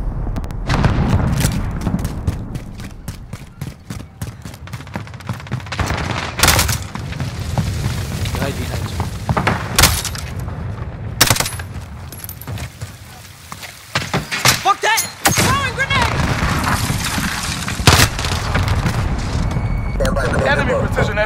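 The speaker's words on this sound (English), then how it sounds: "Enemy cruise missile incoming." Cruise missile strikes in a first-person shooter video game land as a series of heavy booms and sharp blasts among gunfire and game clatter, with a voice announcing alerts over the action.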